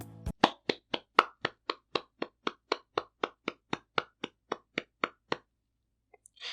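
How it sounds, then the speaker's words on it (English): About twenty sharp hand claps in a steady, even rhythm, close and alone, then silence with a faint noise at the very end. "That was me clapping."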